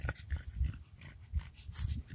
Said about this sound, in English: See, I'm walking my dog.